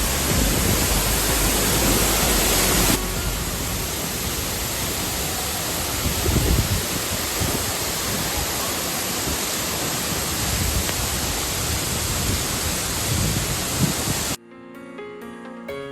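Thundering spray at the foot of Sekumpul waterfall in Bali, a steady, loud roaring hiss that fills the scene, then cuts off abruptly near the end as music takes over.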